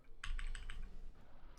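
Quick bursts of keystrokes on a HyperX computer keyboard, about five close crisp clicks in a steady rhythm, then a softer tapering tail with no voices.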